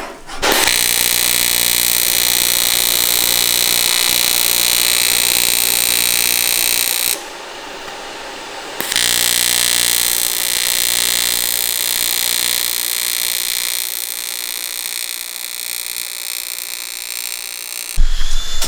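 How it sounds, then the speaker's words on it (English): A pipe is being welded on a Mazda RX7 build with a three-rotor swap. A loud, steady buzzing arc runs for several seconds, stops briefly, then resumes and continues at close range with no speech. "start welding this pipe"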